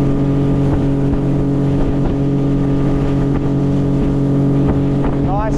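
A Highfield Sport 390 RIB inflatable boat motors at 30 knots on calm water, its outboard engine droning loud and steady with constant wind buffeting the microphone throughout.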